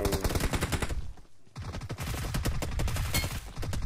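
Gunfire in PUBG Mobile: dense, rapid automatic fire rattles loudly and almost continuously, with one brief pause before the bursts resume.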